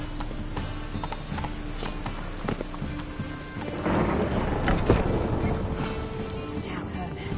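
Hoofbeats of Geralt's horse Roach galloping in The Witcher 3, a steady clip-clop under rumbling thunder and rain, growing louder and busier partway through, with a voice speaking briefly.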